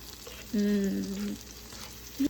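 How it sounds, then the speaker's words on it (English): Garlic browns in melted butter in a pan, giving a quiet, steady low sizzle under a short tonal hum, with a brief soft knock at the end. "I'm going to saute some garlic in this pan. We're just gonna brown the garlic in the butter."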